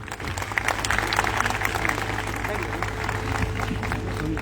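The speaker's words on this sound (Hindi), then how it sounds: "आप लोग जोरदार तालियों से उनको आमंत्रित करें।" Audience applause welcomes a speaker at a building inauguration ceremony of a design and research institute in Uttar Pradesh, steady close clapping from a crowd, with voices faintly audible underneath.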